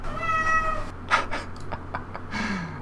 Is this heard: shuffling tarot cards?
no